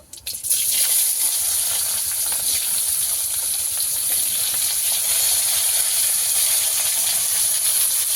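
A loud, steady hiss of frying bursts in abruptly after a brief quiet start, as thinly cut potatoes go into hot oil with panch phoron, then holds a constant crackling sizzle up close.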